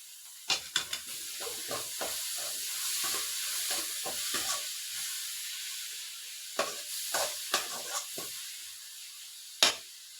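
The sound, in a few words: stirring beetroot thoran frying in a pan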